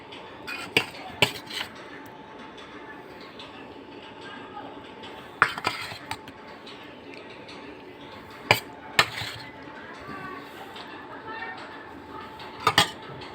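Fish curry with drumsticks, potato and eggplant being served at a home lunch table, with sparse sharp clinks of utensils against dishes scattered over a quiet background, several separate bright taps close by.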